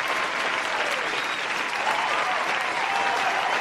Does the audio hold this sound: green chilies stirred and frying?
no